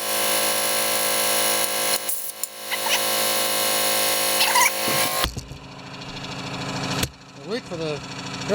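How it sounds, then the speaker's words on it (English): An air compressor runs loud and steady in a workshop where a 1968 Homelite XP1020 chainsaw is being worked on, a dense continuous drone that cuts off partway through and leaves quieter handling sounds. "Wait for the air compressor to stop."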